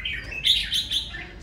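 A red-whiskered bulbul, about two and a half seasons old, gives a few quick, bright chirping bursts close by over a faint low hum.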